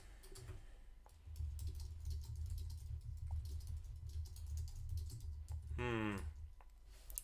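Fingers typing a chat message on a computer keyboard, a fast dense patter of key clicks running for several seconds, interrupted near the end by a short rising electronic chirp.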